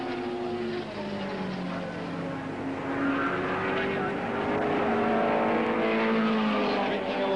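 A 1.6 litre McLaren Cosworth race car at the 1968 International 100 at Warwick Farm drones steadily past amid other engine noise, its rising pitch swelling slightly louder through the pass.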